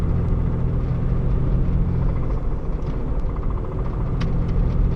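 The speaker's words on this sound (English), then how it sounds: "the person who shipped this car up doesn't know about this knocking motor" Porsche Boxster with a knocking engine running, a steady low rumbling drone with faint repetitive ticking, close and continuous throughout.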